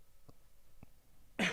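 Two soft, faint throat-clearing coughs, then one louder close cough right into a microphone on a podcast set.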